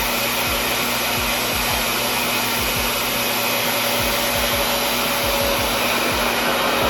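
Steady, loud whirring rush of a hair dryer blowing hot air close by, with a constant high whine and faint rhythmic low thumps underneath, no talking.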